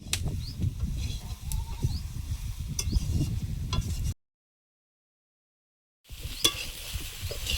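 Soybean chunks and pointed gourd frying in a pan while being stirred, with a steady sizzle and scraping strokes that stop abruptly into a long silence before the frying resumes.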